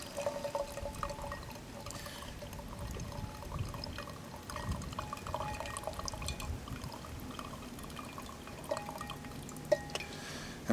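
Vegetable broth is strained and poured off from a bush pot outdoors, a soft, continuous trickle and splash of liquid with occasional drips, fairly quiet and close.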